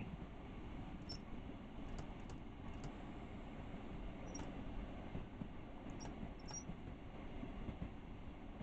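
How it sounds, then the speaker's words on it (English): A freight train rumbles past steadily in a low continuous roar, with faint high metallic squeals and clicks from the wheels scattered throughout. "freight going past on the main line"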